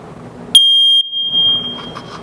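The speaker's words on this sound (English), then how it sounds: "Test your smoke alarms every month." A loud, piercing electronic beep from a smoke alarm test button at a fire station cuts in abruptly and holds a high steady tone, with quiet background sound around it.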